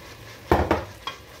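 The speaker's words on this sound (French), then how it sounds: "Voilà, vous laissez toujours mijoter votre viande comme ça. Là, je mets la tomate." Blended tomato added to simmering meat for an Indian curry: two quick wet splats and a stirring clatter, then a lighter clink, over a soft bubbling simmer.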